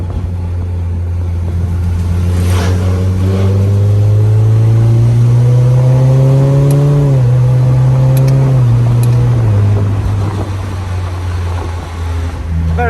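Supercharged Mazda MX-5 with a DCT gearbox accelerating hard, the engine note climbing loudly through several gears with clear dips at each shift, heard close from inside the car with no talking.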